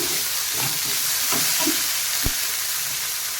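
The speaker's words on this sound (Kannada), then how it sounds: "ಈಗ ಇದನ್ನು ಸ್ಲೋ ಉರಿಯಲ್ಲಿ ಇಟ್ಟಿದ್ದೇನೆ ಈಗ ಮಿಕ್ಸ್ ಮಾಡ್ಕೊತೀನಿ" Stuffing stirred in a pan over a slow flame for stuffed chilli bajji: a steady soft sizzle with scraping stir strokes and one sharp clink of a spoon against the pan, close and continuous.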